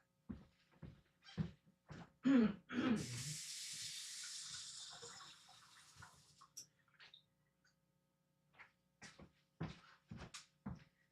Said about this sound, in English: Let me rinse my brush off real quick.